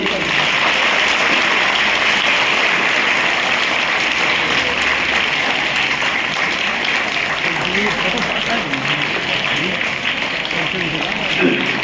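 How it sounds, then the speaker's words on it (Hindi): Audience at a college ceremony clapping continuously, a dense, even patter of many hands that stays loud throughout the whole stretch. "आप करतल ध्वनि से पूरा सदन, पूरा कॉलेज कैंपस गुंजायमान हो जाना चाहिए"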